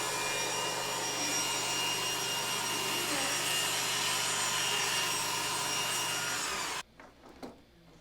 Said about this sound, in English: I'm going to cut these out on the table saw